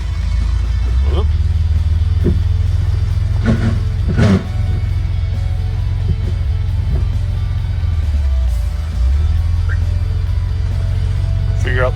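A 1964 Chevrolet Corvair Monza 900 engine runs steadily in gear, a constant low rumble that holds for the whole stretch, with a few brief clicks and knocks over it and no talking.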